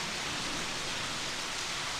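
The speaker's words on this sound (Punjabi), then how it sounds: "ਆਹ ਦੇਖ ਮੀਂਹ ਕਿਵੇਂ ਪਈ ਜਾਂਦਾਗਾ" Rain falling outside makes a steady, even hiss that fills the whole stretch, with no pauses and no distinct drops standing out.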